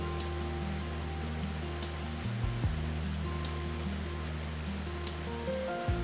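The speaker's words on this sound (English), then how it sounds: "waterfalls crash around you in every direction" Waterfalls pour into lakes on every side, making a constant broad rushing roar that holds steady and near throughout, with a low drone running beneath.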